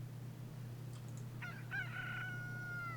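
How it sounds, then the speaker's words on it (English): A rooster crows once in the Transport Fever video game, a fairly quiet drawn-out call that rises and trails off over a constant low electrical hum, with no talking. "Chicken noises."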